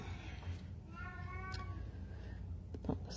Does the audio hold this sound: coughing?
no